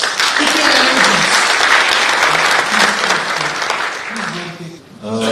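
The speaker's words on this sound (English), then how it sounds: "Ladies and gentlemen, big round of applause" Audience at a corporate employer-brand awards ceremony giving loud, sustained applause that thins out toward the end, while a host's voice carries over the clapping.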